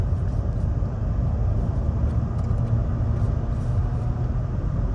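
A cold classic Mercedes engine drones from inside the car on an empty road, a steady, loud, low rumble that carries through the whole stretch without a break and with no talking.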